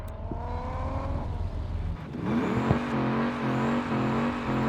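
Car drifting, its engine droning low and then revving up into a steady loud whine after a brief dip, heard close with no talking.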